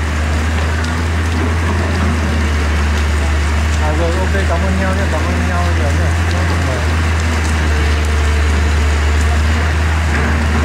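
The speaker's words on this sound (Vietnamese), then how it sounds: "trời đang mưa to lắm cả nhà" Heavy rain falls at the collapsed Phong Châu bridge in Phú Thọ during a rescue search. A steady, dense hiss continues throughout over a loud low hum of engines, while people talk nearby.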